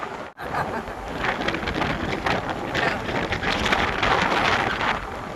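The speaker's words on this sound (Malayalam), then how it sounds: "ഈ കാറ്റ് കൊണ്ടാണ് ഞാൻ ഈ വലിയ ഒച്ചത്തിൽ സംസാരിക്കുന്നത്" Strong wind buffeting the microphone in a continuous roar beside rice paddies in Goa, gusting louder toward the end after a brief dip at the start.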